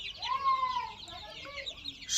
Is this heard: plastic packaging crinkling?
no